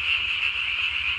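A tree frog croaks at night in a dense, continuous trilling call, close and loud, with no voices.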